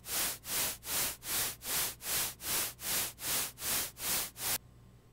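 Broadband noise pulsing on and off in a steady, deep rhythm, about a dozen even swells that fully drop out between each, then stopping abruptly.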